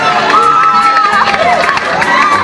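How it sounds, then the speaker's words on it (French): Crowd at a Miss Burundi pageant cheering and shouting for the newly crowned winner, loud and close, with high excited voices and whoops rising and falling over a dense bed of applause. "Des applaudissements, mesdames et messieurs, pour la nouvelle Miss Burundi."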